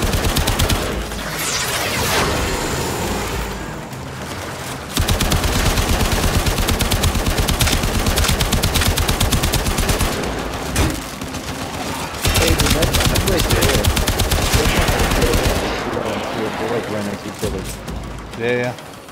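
Sustained automatic gunfire in the sci-fi shooter Warframe, long dense rattling bursts broken by short pauses, loud and close, with players talking over the shooting at times.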